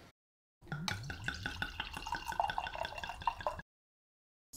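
Riesling wine pours into glasses in a quiet room, a short run of bubbly liquid trickling and glugging for about three seconds between silences.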